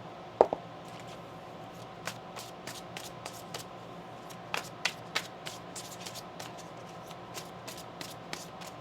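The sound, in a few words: shuffling tarot cards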